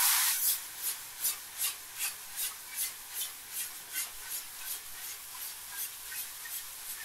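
Fine sandpaper rubs wood end grain in a circular motion, a steady rhythmic hiss with about two strokes per second, close and soft, with no talking.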